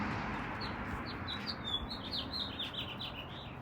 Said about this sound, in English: They're singing so nice.